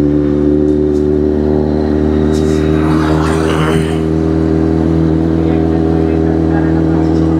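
A Kawasaki Z800 motorcycle engine drones loudly and steadily while riding, with a brief swell of acceleration midway, heard from up close under continuous wind and road noise.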